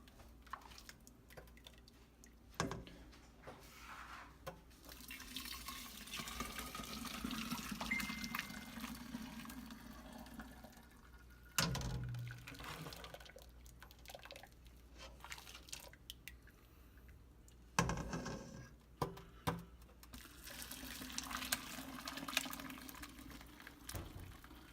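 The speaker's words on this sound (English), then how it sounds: "And now we're going to strain and fill the jars." Red sorrel drink is strained and poured into jars, a faint watery trickle and splash that swells and fades, with occasional louder knocks and clinks of the jars.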